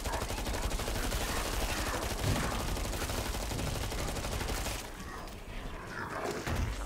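Tommy gun firing rapid automatic bursts in the video game Killing Floor 2, dense continuous rattling shots with a short pause before the firing resumes.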